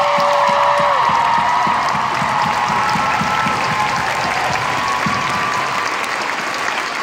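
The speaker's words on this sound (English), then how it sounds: "Can we all have the biggest round of applause for the people who make this happen and make it possible," A convention crowd applauds the volunteers with dense, sustained clapping that fills the hall for several seconds, joined by a few cheers, while a voice on the microphone briefly carries over it.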